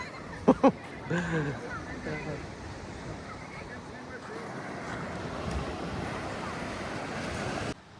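Sea waves wash steadily onto Juhu Beach, Mumbai, amid gusty wind rumble, with a couple of brief knocks and a short voice near the start.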